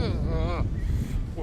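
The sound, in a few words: strong cold wind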